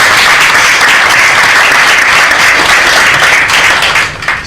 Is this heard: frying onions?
no